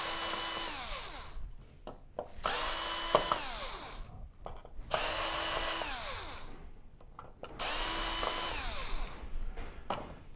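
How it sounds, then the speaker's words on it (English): A power drill removes four screws from the chassis of a Samsung UN65JS9000F television in three long, close whirring runs, each winding up and then slowing in pitch, with short clicks and gaps between them. "Now we're gonna get these four screws out, and this should come away from the chassis as well."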